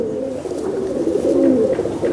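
Pigeons coo steadily in a loft kept by fanciers, a low continuous warbling murmur with overlapping calls, fairly close and filling the whole stretch without any voices.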